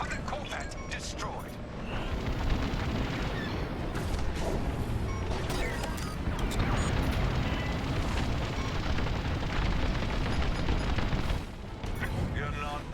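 A Corvette starship explodes in Star Wars: Squadrons multiplayer, a rolling roar and crackle of blasts that swells and holds for several seconds amid engine rumble and game effects, with a voice speaking over it.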